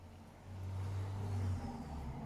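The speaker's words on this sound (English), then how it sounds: "I'm afraid you will hear traffic" Road traffic coming through open windows, a low, steady car engine rumble swelling and fading as a vehicle passes, fairly faint and continuous.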